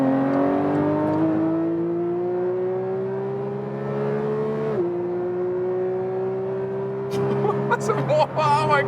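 A Porsche 911 GT3 Touring accelerating hard, the engine note climbing steadily through a long pull with a brief shift dip, loud and close from inside the cabin, with a person talking over it near the end.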